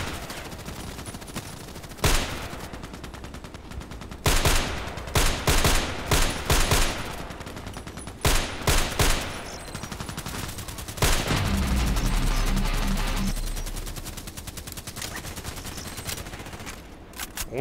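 Repeated loud bursts of gunfire in a first-person shooter game, sharp volleys and rapid automatic shots at irregular intervals over continuous background game noise, with a low rumble in the middle.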